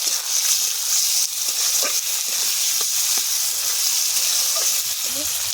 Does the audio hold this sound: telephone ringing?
no